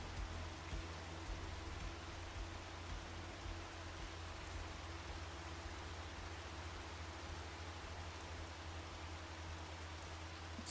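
Steady rain from the Farming Simulator 25 video game, a continuous even hiss of falling water with no breaks, fairly faint and heard alone without voices.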